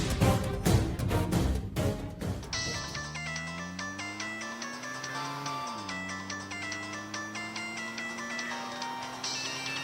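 A telephone ringtone plays loud and close: a quick burst of rapid electronic tones, then a sustained melodic electronic tune that bends and rises in pitch, with no talking.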